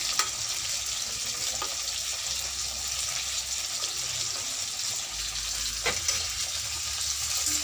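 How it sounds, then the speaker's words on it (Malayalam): Roasted, ground masala is stirred into a simmering pot of sambar, with a steady bubbling hiss and faint scraping of the spoon at a few points. "നേരത്തെ വറുത്തരച്ച് കൊണ്ടുവന്ന മസാലക്കൂട്ടും കൂടി നമ്മുടെ ഈ സാമ്പാറിലേക്ക് ചേർത്ത് നന്നായി ഇളക്കുക."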